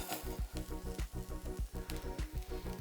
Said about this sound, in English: You get this nice browning on the tempeh